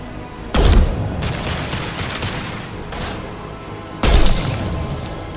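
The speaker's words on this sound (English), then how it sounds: "Firing an impact shot!" An impact shot fired in Mass Effect: two sharp, loud blasts about three and a half seconds apart, each a sudden heavy boom trailing into a rumbling, crackling decay, with no talking over them.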